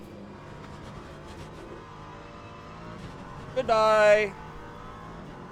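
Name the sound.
LMP3 race car engine at Sebring, from a racing video game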